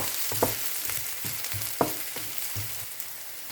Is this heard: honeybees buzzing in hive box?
no